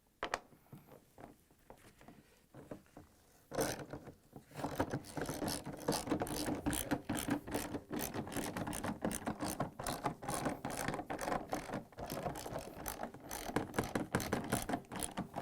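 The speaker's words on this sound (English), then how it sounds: "They are joined together with this 10mm bolts that goes all around, and for that purpose I'm using a same socket wrench" A 10mm socket wrench ratchets bolts around a Samsung washer drum shell, quiet fiddling at first, then a long run of rapid, close clicking strokes that continues steadily to the end.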